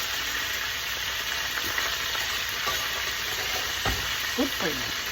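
Italian sausage and broccoli rabe sizzle steadily in a hot wok, a constant hiss with occasional stirring clatter and scrapes, close and fairly quiet.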